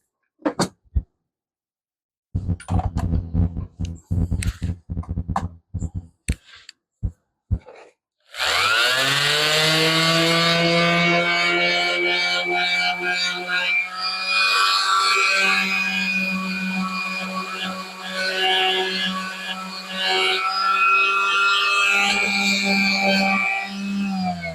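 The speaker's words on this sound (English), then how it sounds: "let me hit that with the sander really quick" A power sander on a wooden deck box panel, first in short stop-start bursts, then running in one loud steady whine for about sixteen seconds, close and with no talk.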